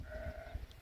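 A single sheep bleats nearby in Khonmoh, Srinagar, a short wavering cry lasting under a second.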